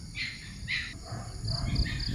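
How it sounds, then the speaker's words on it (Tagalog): Crickets chirp on a quiet morning outdoors, steady high trills pulsing through the background, with faint low rumbles and a few louder bursts near the end. "May mga ano pa, kuliglig pa. Yung mga crickets pa."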